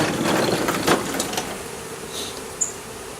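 Honeybees buzz in a steady, moderately loud drone around an opened hive as the bottom box is cracked open, with a few brief closer passes over the hum.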